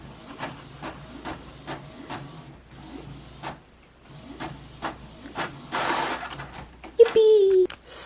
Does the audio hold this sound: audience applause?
no